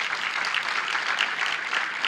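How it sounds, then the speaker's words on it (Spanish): A church congregation breaks into steady, dense applause during a sermon service, a continuous wash of clapping hands with no voices heard. "Vamos a darle un fuerte aplauso a mis hermanos."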